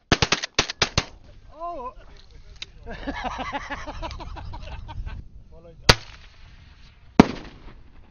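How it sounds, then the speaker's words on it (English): Several sharp shotgun blasts from a double pump-action shotgun at an outdoor shooting competition, a rapid burst of shots followed by two more loud isolated reports, with people talking and an exclamation in between. "Dis 'n double pump action al geweer. Hy shoot laat die kant spat."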